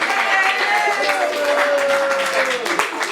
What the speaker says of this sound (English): Give a round of applause to Mario.